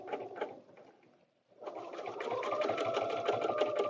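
A sewing machine stitching fabric onto a paper-piecing template for a butterfly dresser scarf, a short burst of rapid stitching, a brief pause, then a longer, steady, fast run close by.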